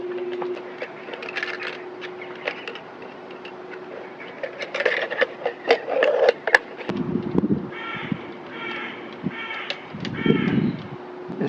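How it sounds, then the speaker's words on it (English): A crow caws in a short series of harsh, raspy calls at moderate distance over a constant background hum, mixed with scattered clicks and taps close by. "This is our noisy, friendly crow"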